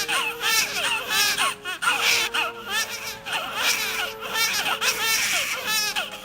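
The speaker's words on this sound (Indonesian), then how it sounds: "akhirnya pecahlah kesunyian dengan suara keras bayi menangis" A newborn wails loudly in an Indonesian animated horror film, with rapid repeated cries rising and falling in quick bursts, backed by a low droning score.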